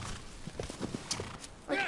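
In the Shadow of the Colossus remake, a horse clip-clops on the ground, then gives a short, high whinny at the end, close and fairly quiet, with a player speaking over it.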